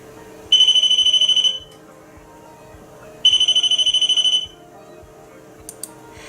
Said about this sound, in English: the alarm goes off. You might be familiar with the alarm sound as well from a paranormal product.